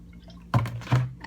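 Vinegar glugs out of a one-gallon container, three close, hollow gurgling pulses spaced about a third of a second apart after a short quiet start.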